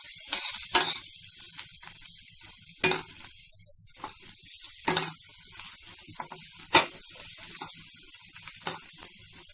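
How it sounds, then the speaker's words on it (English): Finely chopped garlic sizzles steadily in a hot pan while a utensil scrapes and stirs it every few seconds, producing sharp hissing bursts. "let's add the finely chopped garlic pieces, and let's give it a mix"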